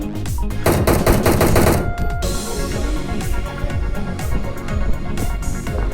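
Rapid automatic gunfire in the battle royale video game PUBG, dense bursts of shots crackling loudly in the first two seconds, then scattered nearer and farther shots continuing throughout without speech.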